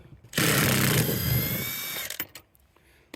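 A power tool whirs loudly and steadily for about two seconds while backing out thread-locked M18 bolts from the rear seat of a Hummer, then cuts off, followed by a few faint clicks and knocks.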